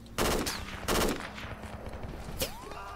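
Loud close bursts of gunfire in the military shooter Project Reality, two heavy volleys near the start followed by scattered more distant shots, one sharp crack near the end, no talking.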